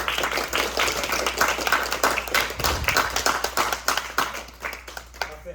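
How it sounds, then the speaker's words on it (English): Classroom applause from a group of students, a dense burst of quick overlapping hand claps, loud and close, holding steady before thinning out toward the end. "can I get my applause?"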